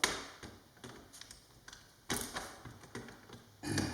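Model railroad track ties cut one by one with a small cutter, producing a series of sharp, close clicks and snips at uneven intervals with quiet gaps between, no talking.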